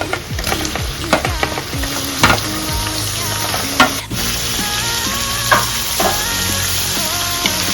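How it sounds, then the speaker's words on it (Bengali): Chicken pieces fry in oil with shallow-fried garlic and ginger while being stirred. Continuous loud sizzling is broken by repeated scraping strokes and clinks of the spatula, with no talking. "জাস্ট একটু শ্যালো ফ্রাই করার পর আমরা যে চিকেনটা কেটে রেখেছিলাম এই চিকেনটাকে দিয়ে দেবো"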